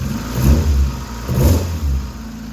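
A nearby turbocharged Mazda Miata engine runs with a low rumble indoors, revving up twice in slow swells before settling back toward idle.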